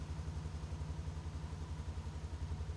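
A Polaris Sportsman 570 ATV engine idles steadily nearby with a low, even, pulsing chug throughout the short stretch, without any voices.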